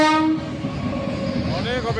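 A train at a railway level crossing in Dakshin Chang Para, Alipurduar, sounds a loud sustained horn blast that bends in pitch, over a steady rumble of passing wagons nearby.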